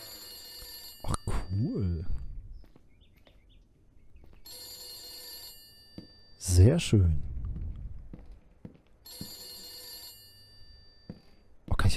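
An electronic bell rings in bursts in the video game The Beast Inside, three separate ringing spells with quiet gaps, while someone speaks briefly between them.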